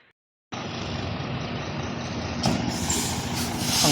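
A big 10-wheeler truck rumbles past nearby, its engine drone steady and loud. A sharp hiss like an air brake cuts in partway through as the noise builds toward the end.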